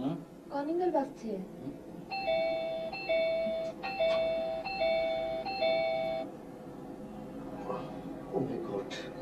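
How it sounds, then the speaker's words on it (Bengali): An electronic doorbell rings late at night in a home, a repeated two-tone chime sounding several times in a row. People talk just before and after it. "কলিং বেল বাজছে।"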